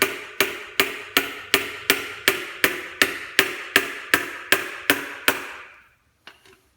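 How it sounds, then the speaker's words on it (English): Fourteen evenly spaced hammer taps drive a piston fitted with new rings through a ring compressor into the engine block, each a sharp, close knock; two faint clicks follow after a short pause. "just want to hold the outside of this compressor against the deck and just tap this in there"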